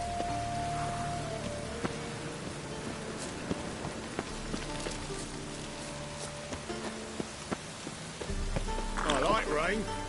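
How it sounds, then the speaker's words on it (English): Steady rain falls in The Witcher 3, a constant hiss with scattered drops under in-game character dialogue, with footsteps or hooves and a brief burst of other activity near the end. "And it's raining again."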